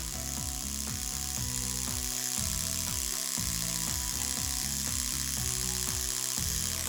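Electric razor trimming eyebrows, a close buzzing motor that changes pitch in quick repeated strokes as it presses against the skin.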